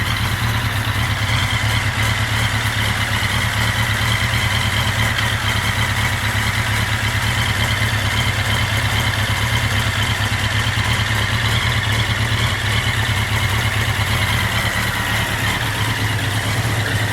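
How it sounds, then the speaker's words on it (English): A 1983 Honda Nighthawk 650cc motorcycle with dual exhaust and an oil cooler idles steadily for the whole stretch, a constant close low rumble with no speech. "It idles fine when it warms up."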